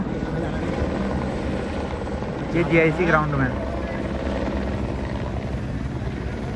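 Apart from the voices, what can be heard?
helicopters flying overhead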